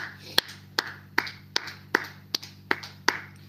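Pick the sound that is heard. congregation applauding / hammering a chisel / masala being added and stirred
congregation applauding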